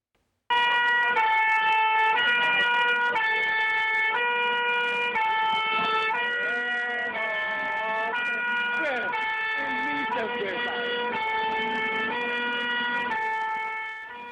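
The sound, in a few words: fire engine sirens as firefighters arrive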